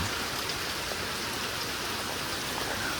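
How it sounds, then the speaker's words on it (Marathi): Steady rain falls outside a house, a dense, even hiss of drops with no talk, heard from indoors or a doorway and moderately quiet throughout. "बाहेर पाऊस बघू शकतास"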